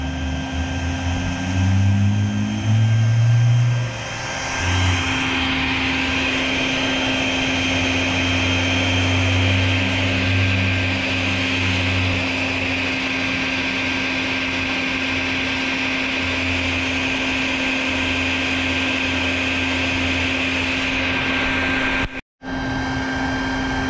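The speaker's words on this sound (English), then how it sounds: "so that's why the vacuum's running" A vacuum cleaner running steadily at a front door while sucking up a swarm of hornets, with a constant drone and whine and some brief low rumbling near the start. It cuts out for a moment near the end, then resumes.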